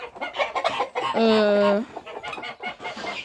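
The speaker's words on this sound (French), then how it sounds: "Là, toujours les poules, les oies et tout." A chicken clucks and squawks up close with a drawn-out harmonic call in the middle, surrounded by other barnyard fowl noises from chickens and geese.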